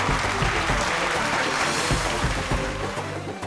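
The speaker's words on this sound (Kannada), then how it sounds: "ನೀವು ಚಪ್ಪಾಳೆ ಹೊಡೀರಿ" Applause from a studio audience at a comedy show, a broad wash of clapping that fills the whole clip and slowly tapers toward the end.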